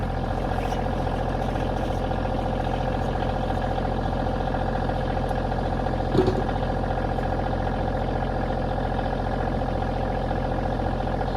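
A tractor engine idles steadily on a snowplowed camp road, a constant low drone running unchanged for the whole stretch, with only a brief knock partway through.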